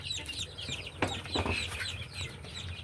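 Laying hens cluck softly and repeatedly at close range, with a few sharper broadband rustles or wing flaps in the middle and chirping birds in the background.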